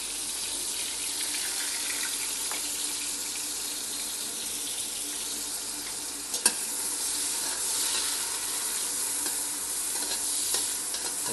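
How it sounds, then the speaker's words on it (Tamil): Chopped onions fry steadily in hot oil, giving a continuous close sizzle and crackle with occasional stirring scrapes and no talk. "வெங்காயம் நல்லா வதங்கட்டும்."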